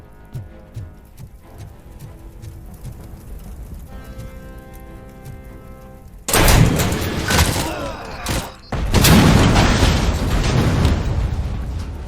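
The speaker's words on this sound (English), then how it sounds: "Oh, the explosions are so colorful." Loud explosion bursts from the shooter game Robocop: Rogue City erupt after a quieter stretch of game music and footsteps, two heavy booming blasts with crackling debris rumbling on close and full.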